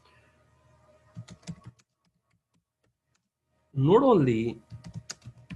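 Typing on a computer keyboard comes as a short burst of soft key clicks, then a pause, followed by a few more taps around a person's brief speech.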